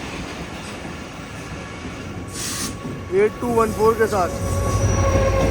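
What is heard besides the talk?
Karachi Relief train at Jhimpir railway station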